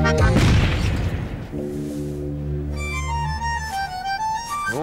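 Fireworks go off at New Year: a loud close boom with crackling burst, followed by lingering rumble and a rising whistling tone as another rocket launches.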